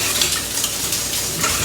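Sauce mixture stirred with a spoon in a pan beside breaded, browned chicken, giving a close, continuous hissing sizzle with soft clinks of the utensil against the vessel.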